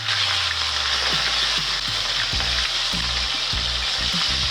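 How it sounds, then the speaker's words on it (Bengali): Small charapona fish frying in mustard oil with a pinch of salt, a loud continuous sizzle close up, joined midway by repeated soft knocks and scrapes as the pieces are turned in the pan. "মাছগুলো ভালো করে নাড়াচাড়া করে উল্টে পাল্টে ভেজে নিতে হবে।"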